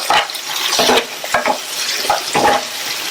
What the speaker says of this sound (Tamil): வதக்கி விட்டுட்டு மூடி வச்சிருங்க.